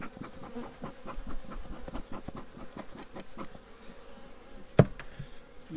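Honeybees buzz continuously in an opened hive at close range, a dense, droning hum with a sharp knock partway through.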